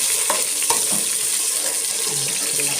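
Onions, tomato and green chili frying in a pan, a steady close sizzling hiss broken by a few soft stirring knocks.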